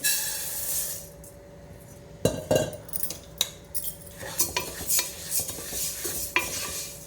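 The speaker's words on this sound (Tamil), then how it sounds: "இப்போ அடுப்பில் வந்து ஒரு கடாயை வச்சுட்டு நல்லா சூடாக இருக்குது இப்போ நம்ம அரிசி சேர்த்து வறுத்துக்கலாம்" Rice grains dry-roasting in a hot kadai, stirred with a metal spoon: a soft dry rustle broken by repeated sharp scrapes and clinks of the utensil against the pan, close and alone.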